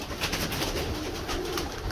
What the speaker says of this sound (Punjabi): ਇਹ ਮੋਤੀਆਂ ਵਾਲਾ ਕਬੂਤਰ ਦੇਖੋ